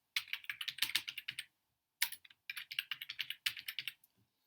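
Quiet, close keystrokes on a computer keyboard as a name is typed, in two quick bursts of clicks split by a brief pause, with no voice.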